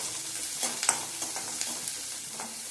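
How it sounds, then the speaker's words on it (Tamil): Banana-flower ingredients being sautéed in a pan until golden, giving a soft steady sizzle with faint, scattered stirring scrapes, alone and fairly quiet. "வதக்கி விட்டுறலாம். நல்லா பொன்னிறமாக வதங்கணும்."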